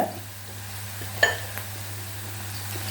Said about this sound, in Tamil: இது வறுபடட்டும்